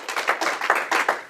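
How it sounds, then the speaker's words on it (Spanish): A church congregation claps hands together in a quick, fairly regular rhythm, about six distinct bursts of clapping that sound close and moderately loud. "denle la ofrenda de palmas con gozo"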